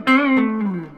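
Les Paul electric guitar played completely clean before an EQ pedal, a single bright plucked note ringing out and slowly decaying, close and clear with no talk.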